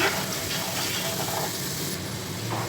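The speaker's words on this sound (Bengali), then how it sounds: "মশলাগুলো দিয়ে ভালো করে এবার একটু কষিয়ে নিব।" Spices, including homemade meat masala, sizzle steadily in a hot pan while being sautéed for a jackfruit curry, a dense continuous frying hiss, close and fairly loud.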